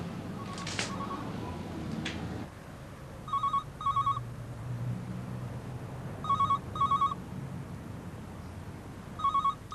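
A telephone rings unanswered, giving repeated paired rings spaced a few seconds apart, clear and moderately loud over a low background hum.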